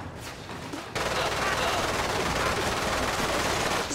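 Dense, continuous enemy gunfire in the video game Lost Planet 2 erupts after a quieter opening, a loud, sustained rattle of rapid shots filling the rest of the clip.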